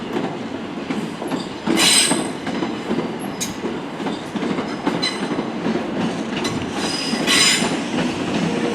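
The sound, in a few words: Southeastern electric passenger train leaving Ashford International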